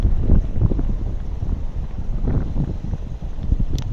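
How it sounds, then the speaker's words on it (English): Wind gusts beside a river, a loud, low, continuous rumble buffeting the microphone with no pauses. "Here's the wind."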